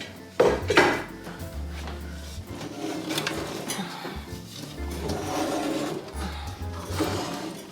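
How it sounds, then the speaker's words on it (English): A metal canning lid is set onto a pressure canner, with scrapes, clanks and rubbing of metal on metal, plus a low hum beneath, while the canner is turned and lined up; corn is being canned. "we're gonna go ahead and put our canning lid on here"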